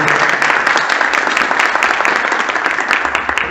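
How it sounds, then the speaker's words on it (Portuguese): An audience at a parish ministers' training meeting applauds a guest professor after his lecture, a dense, steady wash of many hands clapping close by that holds throughout. "Palmas para ele."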